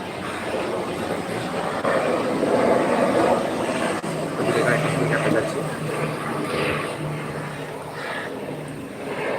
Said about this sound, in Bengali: একটা হেলিকপ্টার গেল এখন